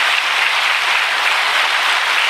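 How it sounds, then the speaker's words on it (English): Audience clapping hard and continuously at a seminar, a dense, steady wash of many hands throughout with no pauses. "Please clap with full effort."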